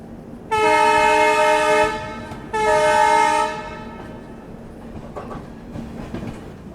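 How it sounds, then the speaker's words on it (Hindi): An Indian Railways WDM 3D ALCO diesel locomotive sounds two loud, long, harmonic horn blasts close by, separated by a short gap, then leaves a low rumbling train background. "हमारे भारतीय रेल की शान है भाई एल्को लोकोमोटिव, डीजल लोकोमोटिव जो हमेशा रहेंगे भाई।"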